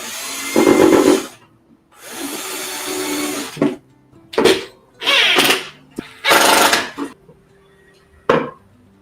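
A power driver sinks screws to fix a hinge on a homemade router table, with several loud whirring bursts separated by short pauses, close up and no talk.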